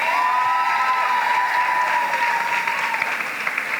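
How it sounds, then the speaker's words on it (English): A graduation crowd applauding warmly, dense, continuous clapping with light cheering, and a steady musical tone sounding through it before fading slightly near the end. "I want to hear another round of applause for Kennedy."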